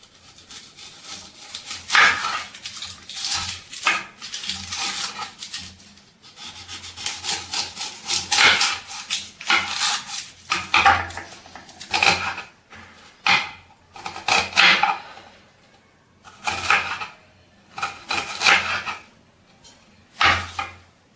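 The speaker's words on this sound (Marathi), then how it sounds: "कांदा भजी करण्यासाठी मीठे दोन मोठे साईजचे कांदे घेतलेले आहेत ते आपण आता चिरून घेऊयात" Two large onions sliced thinly on a cutting board for onion bhaji, a steady run of rhythmic knife strokes rubbing and tapping through the bulbs, close and clear with brief pauses between bursts.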